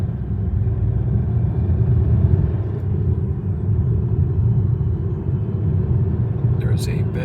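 Lynk & Co 01 plug-in hybrid with a 1.5 turbo engine, 261 HP, pulling away on a night drive: a steady low rumble of engine and road noise, continuous and fairly loud, with a brief faint click near the end.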